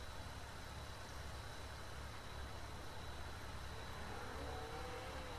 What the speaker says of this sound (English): The Peterbilt got a crazy sound to it.